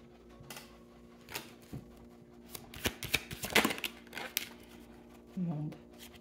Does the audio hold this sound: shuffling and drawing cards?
yes